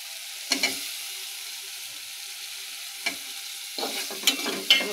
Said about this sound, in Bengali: টমেটোগুলো মশলার সাথে একটু ভালো করে মিক্স করে নেব।